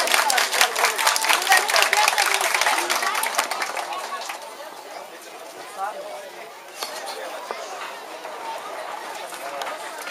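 Wedding guests break into loud applause during a Turkish jewelry-gifting ceremony, with dense clapping at first that thins into crowd chatter and murmuring.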